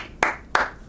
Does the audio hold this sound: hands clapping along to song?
yes